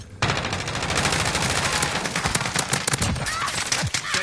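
A PPSh submachine gun firing in Call of Duty Warzone, set on the Verdansk '84 map in Plunder mode: one long, loud, rapid automatic burst with a dense rattle of shots, close up, then a few trailing shots.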